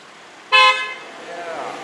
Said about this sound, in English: Yeah, honk that horn.